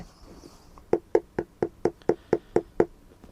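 Knuckles knocking on floor tiles to compare hollow, debonded tiles with normal ones: nine sharp, evenly spaced knocks, close and fairly loud, over a faint room background.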